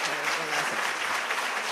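Sustained audience applause at a scholarship awards and hall of fame ceremony, a dense even wash of clapping filling the short stretch with no break.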